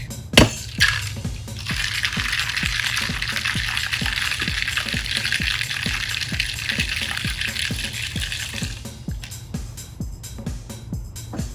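Cocktail shaker filled with ice shaken hard at a flair bartending demonstration, fast rhythmic rattling of ice against metal for several seconds after a clink, loud and close.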